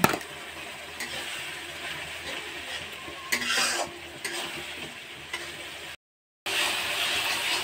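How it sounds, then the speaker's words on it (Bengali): Ground cumin, chili powder and salt stirred and fried in a pan for a fish, cauliflower and potato curry, with steady sizzling and scraping strokes of a spatula, close and continuous apart from a brief silent gap near the end. "মশলাটা আমি ভালো করে কষিয়ে নেব।"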